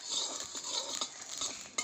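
Fenugreek and spices dry-roasting with salt in a dry pan, a faint crackling hiss close by, broken by quick metallic spatula scrapes and a sharp knock near the end, with no speech.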